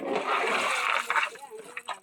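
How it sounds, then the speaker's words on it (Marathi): Water pours down over a rock from above in a Konkan stream, a continuous splashing rush up close, with voices talking over it. "आणि वरतून पाणी येत आहे."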